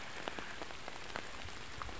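Rain pours on a rural farm, a soft continuous patter with scattered louder drops striking nearby surfaces, fairly quiet and with no voices.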